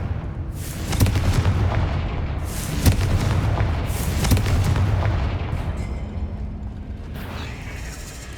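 Repeated Confringo blasting-spell explosions boom out in Hogwarts Legacy, several heavy thuds a second or two apart followed by crackling debris and rumbling tails.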